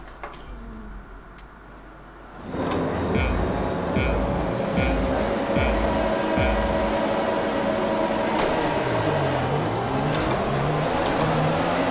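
Formula 1 cars roaring off the line together at a race start in the F1 2020 video game, a dense, loud engine wall swelling suddenly after a quieter opening and holding steady with shifting revs.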